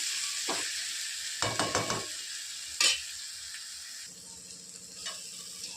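Masala for a brinjal curry sautéing in a pan, a steady sizzle throughout with a quick run of spoon scrapes and taps against the pan, close and clear.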